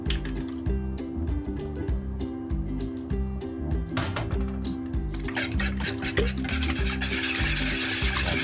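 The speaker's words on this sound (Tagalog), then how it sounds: "i-whisk o babatihin natin ang ating itlog" Eggs being whisked in a bowl for steamed egg pudding, a steady run of soft rubbing, wet clicking strokes close up, with low-pitched music playing underneath throughout.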